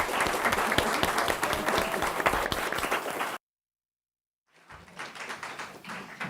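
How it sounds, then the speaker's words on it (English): An audience gives a round of applause after a panel conversation on Black maternal health, steady dense clapping that cuts off abruptly, then resumes more faintly after a short silence. "let's just please give everyone a huge round of applause"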